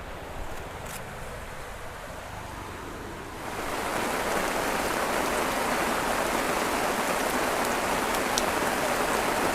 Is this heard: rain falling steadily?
yes